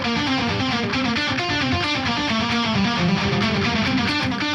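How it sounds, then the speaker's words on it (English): A distorted electric guitar played through a rhythmic dotted-eighth-note delay sounds loud and continuous, with repeating echoes stacking into a dense pulsing texture and no talk. "Rhythmic echo. Often it's a dotted eighth note."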